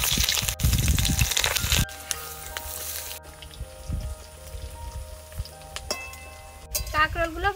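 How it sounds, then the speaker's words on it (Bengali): Spiny gourd pieces frying in oil in a Bengali village kitchen crackle and sizzle, loudest at first, then settle into a lighter, uneven spatter. Background music plays alongside. "এবার কাঁকরোলগুলো ভেজে নেব।"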